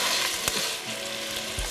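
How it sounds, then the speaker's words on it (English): Pancetta and garlic sizzle steadily in olive oil in a hot pan, a dense close crackle with a brief knock of a utensil partway through. "So we are sizzling and looking beautiful."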